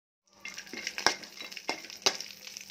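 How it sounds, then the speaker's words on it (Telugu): Dry fruits fry in melted ghee in a kadai for carrot halwa, giving a close, steady sizzle that starts abruptly, with sharp clinks of a spatula against the pan at regular intervals. No one speaks. "ఇది కొంచెం కరిగిన తర్వాత డ్రై ఫ్రూట్స్ అనేది ఫ్రై చేసుకోవాలి."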